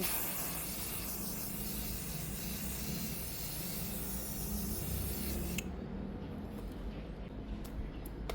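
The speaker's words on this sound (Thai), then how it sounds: "ฉีดเลย ฉีดห่างประมาณ 15เซน" A continuous aerosol of leaf shine spray hisses steadily for several seconds from about 15 cm away, then cuts off, followed by faint rustling.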